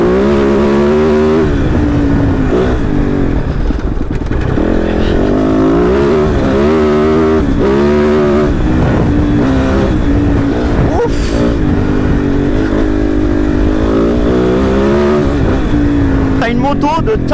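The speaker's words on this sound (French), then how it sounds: "t'as une moto qui accélère" A Kove Dakar rally motorcycle revs and accelerates repeatedly, its engine note climbing and falling in rising sweeps, loud and close throughout, with a person talking over it.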